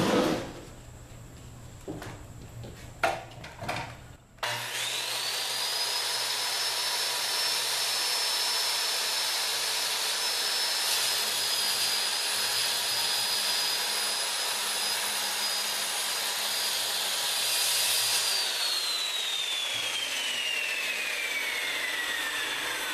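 A power saw cuts wood pieces for a small workbench, starting after a few knocks and handling sounds, then a loud, sustained whining cut that runs steadily for about thirteen seconds before winding down, close up with no talking.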